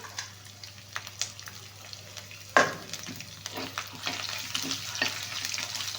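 Garlic sizzling and crackling as it fries in oil in a pan, with occasional stirring clatter and a sharper burst midway as something drops into the hot oil.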